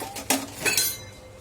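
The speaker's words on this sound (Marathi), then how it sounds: "इथे मी कढई गरम होण्यासाठी ठेवली आहे" An iron kadhai is set down on a kitchen stove, giving a couple of brief metallic clinks and knocks close by, then quiet.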